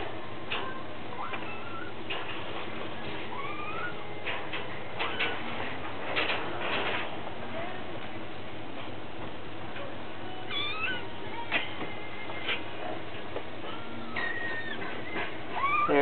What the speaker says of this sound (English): Hello, little kittens.